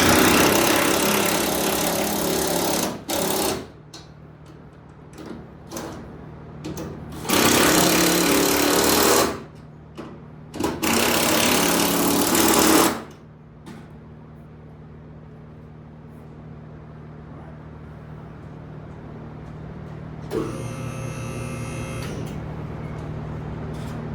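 Power tool bursts tightening coilover bolts on a Honda Civic suspension, three loud bursts of several seconds each followed by a shorter, higher whirr, with a steady low hum running between them.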